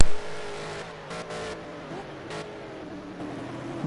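A GT3 race car engine in Project CARS at Sonoma Raceway drones close and steady, its pitch wavering as the driver pushes hard through a corner, with brief whooshes of passing cars over the constant hum.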